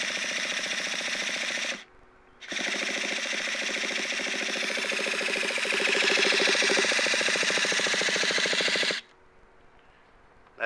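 A nitro RC car engine cranks over on an electric starter in a steady, rapid buzzing whir, loud and close, pausing briefly once before resuming and then cutting off near the end.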